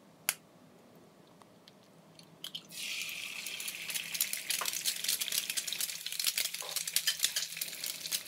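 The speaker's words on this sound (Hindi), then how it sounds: "और ये हमारे अब अंडे फ्राई हो रहे हैं सहरी के लिए" Eggs fry in a pan for a pre-dawn Ramadan meal. After a quiet start with a few clicks, a soft, steady crackling sizzle sets in and continues to the end, with faint utensil taps.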